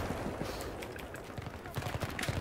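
Gunfire during a team deathmatch in a first-person shooter game: rapid bursts of automatic weapon shots, loud and close, with full-auto fire and scattered shots over the short stretch.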